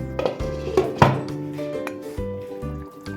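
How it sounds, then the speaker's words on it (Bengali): A metal lid set onto a pot of Bengali doi parshe fish curry, a few close clinks and clatters of metal on metal, sharpest near the middle, then fainter clanks. "আমি ঢাকা দিয়ে দিচ্ছি"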